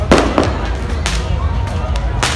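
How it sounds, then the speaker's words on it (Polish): New Year fireworks in Kampot, Cambodia, on a street of bars and pubs, with several sharp bursts and pops cracking out irregularly over a busy outdoor background. "Jakieś fajerwerki."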